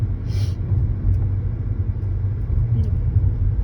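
Low, steady rumble of a Porsche engine close by, holding a constant level with no clear revving, and faint brief noise bursts on top.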